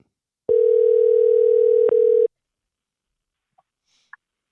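A phone line gives one long steady electronic tone while a number is dialled, then cuts off abruptly, followed by quiet and a couple of faint brief clicks.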